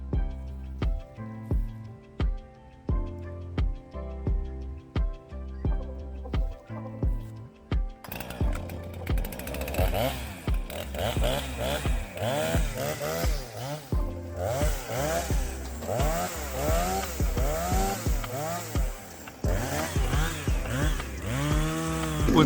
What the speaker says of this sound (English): So I'm gonna grab the saw and knock that out.